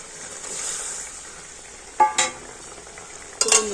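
Fried Bombay duck fish being added to a simmering curry, a soft steady bubbling hiss with a few quick clinks and splashes as the pieces go in, no speech.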